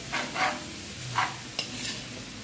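Meat is stirred and fried in a pan while cooking bopis, giving a soft, steady sizzle broken by a few scraping stirring strokes and one sharp clink, heard close with no talking.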